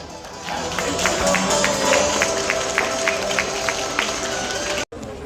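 Audience at an outdoor Charolais cattle show at an agricultural festival in Picardie Maritime claps steadily, a dense wash of many hands with crowd murmur, cut briefly near the end.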